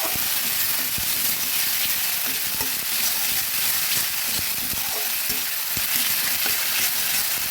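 Chopped onion sizzles and is stirred in a pan with a little water for a winter-vegetable fish curry, a steady close frying hiss broken by soft scrapes and knocks of the spoon.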